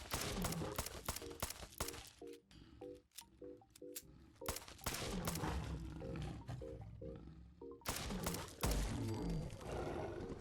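Repeated gunfire from a small pistol aimed at a Deathclaw in Fallout 4, sharp shots in bursts alongside the creature's loud roars and grunts, close and dense throughout.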